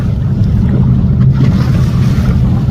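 A small boat on a round-Hong Kong trip rides the wake of a big passing ship, giving a loud, continuous low rumble of water and wind buffeting the microphone, with no talking.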